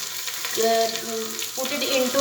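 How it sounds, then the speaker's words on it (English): Green chili and onion pieces fry in a pan with garlic paste, a steady sizzle heard under someone talking briefly. "3 to 5 minutes fry it well to brown color"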